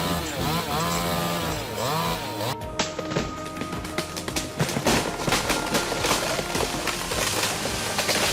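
A chainsaw cuts through a big tree with a steady, buzzing drone that runs loud and close for the whole stretch, shifting in pitch as the cut goes on.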